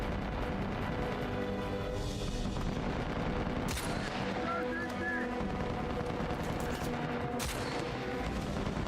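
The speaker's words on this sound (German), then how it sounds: "Ich würde jetzt gerne das Scharfschützengewehr noch mal so ein bisschen ausnutzen." Sniper rifle fire in the Uncharted 4 video game: two sharp, loud cracks a few seconds apart over a dense bed of game combat noise, with voices faintly underneath.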